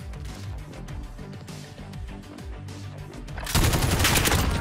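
Light machine gun fire in the Modern Warfare shooter, a steady run of rapid low thudding shots that ends in a louder, harsher burst of fire.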